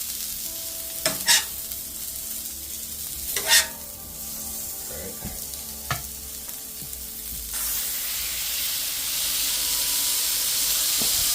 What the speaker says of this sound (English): you let them brown on one side, and then you flip them and then smash them